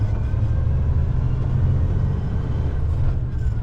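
Low, steady rumble of a pickup truck's engine gathering speed on the road, a continuous cabin drone with slight swells and no talk.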